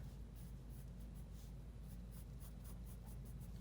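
A fine tip pencil scratches steadily across paper while drawing long strands of straight hair, a soft continuous scraping with repeated strokes under a low background hum, and no one speaking.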